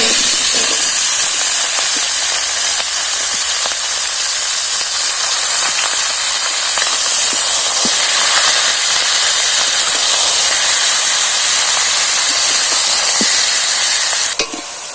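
Winter vegetables being stir-fried in a pan for khichuri, a loud, steady sizzle with stirring scrapes and hissing steam throughout, with no one talking.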